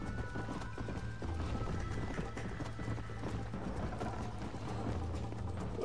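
A horse gallops in the video game Red Dead Redemption, with steady rapid hoofbeats over a low rumble of movement and a faint high tone in the background, continuous for about six seconds.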